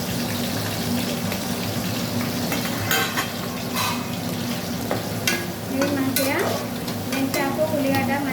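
Onions and fenugreek leaves frying in a pan for a prawn curry, a steady loud sizzle with stirring scrapes on top and brief running water joining toward the end.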